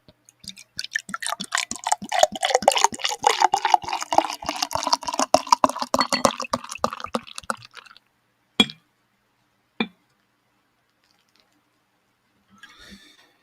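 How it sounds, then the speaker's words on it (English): Obolon Kyivske malt liquor beer poured hard from a bottle into a glass, a dense bubbling, trickling wash of liquid for about eight seconds, followed by a couple of sharp isolated clinks and a faint rustle near the end. "I poured it hard, actually, and I'm getting very little head whatsoever."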